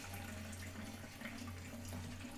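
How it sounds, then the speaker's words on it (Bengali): Tap water runs steadily into containers being filled at home on a festival morning, a continuous close rushing stream with no talking. "আর এই জলগুলো ভরে নিয়ে"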